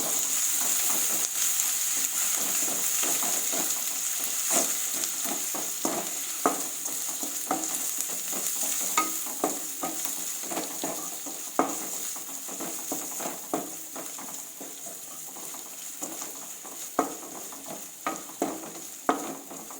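Potatoes frying in a pan with ginger garlic paste, a steady soft sizzle broken by repeated scraping clicks and taps as they are stirred, close and unaccompanied by talk.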